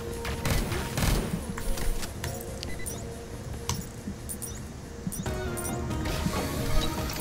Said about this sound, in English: it's a fucking rocket turret.